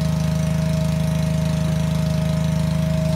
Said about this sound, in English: Take your winch up.